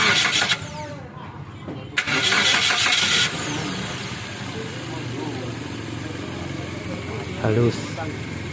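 A car engine cranks and catches after a few short bursts, then settles into a steady idle, with a brief extra rev near the end.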